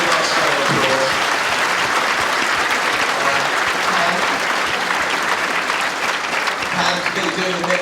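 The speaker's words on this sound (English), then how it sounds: "Give them a nice round of applause." Audience at a bowls championship breaking into steady, dense applause for the stewards, a full crowd clapping continuously and loudly from start to finish.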